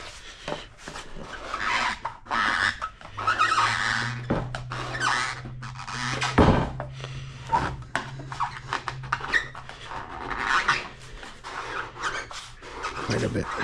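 Plastic scraper dragged in repeated rasping, squeaky strokes across a waxed snowboard base, close and fairly loud, with a steady low hum underneath and occasional brief pauses between passes.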